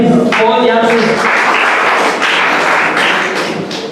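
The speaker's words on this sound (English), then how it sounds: "There was a very unenthusiastic round of applause." A seminar audience gives a thin, unenthusiastic round of applause: a voice briefly sounds first, then scattered clapping fills a few seconds and tapers off.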